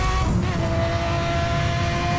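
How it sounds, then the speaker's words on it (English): A Lamborghini Murcielago V12 in the racing game Need for Speed Hot Pursuit, a loud, steady high-revving engine drone that holds without a break, with faint tire noise beneath. "The V12 provides the music"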